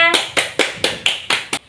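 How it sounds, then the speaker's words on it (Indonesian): Students in a primary school class clap for a classmate, a short run of about seven distinct, evenly spaced hand claps, close and fairly loud with no voices over them. "Kita berikan tepuk tangan untuk Mbak Yahra."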